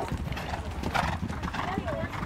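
Horse hooves clip-clop steadily at a horse show while people talk over them and a horse gives a short whinny.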